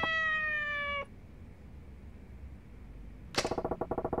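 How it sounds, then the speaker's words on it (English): A cartoonish cat meows twice in the video game Yakuza: Like a Dragon, first a long harmonic mew, then after a quiet gap a louder, rapid stuttering meow, with no talk. "guess we'll meow like a kitten"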